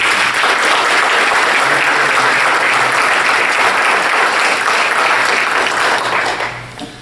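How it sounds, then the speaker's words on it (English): An audience applauds the recipients and their families at a high school graduate Hall of Fame ceremony, a loud, sustained roar of clapping from a large crowd that holds steady and then tapers off near the end. "Let's give today's recipients and their families one more round of applause."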